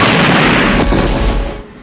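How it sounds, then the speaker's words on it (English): Laser beams firing during a castle scene in the film The Neverending Story II: a dense, loud, continuous blast-like roar with booming low rumble that fades toward the end. "the lasers seem to be playing Missile Command"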